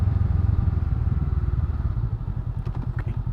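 A 2019 Honda Rebel 500 motorcycle engine idles in neutral close by with a steady, throbbing low rumble, a few light clicks sounding near the end.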